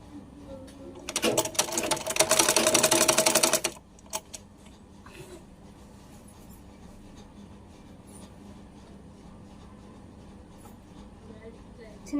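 A sewing machine stitches folded silk fabric for a child's skirt in one loud, rapid burst of about three seconds, followed by scattered handling clicks and quiet room tone.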